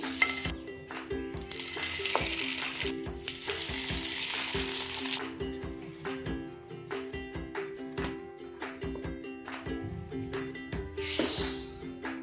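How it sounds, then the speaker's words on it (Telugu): Bread slices soaked for French toast fry in a pan, producing a continuous crackling sizzle with bursts of spitting and light utensil clinks. "ఇలా మిగతా 2 స్లైసెస్ని కూడా ఫ్రై చేసుకుందాం."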